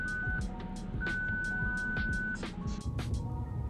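Parking sensor warning beeps from a 2021 Honda Ridgeline Black Edition, a series of sharp, evenly spaced electronic beeps with a few longer sustained tones, loud and close inside the cabin over a low vehicle rumble.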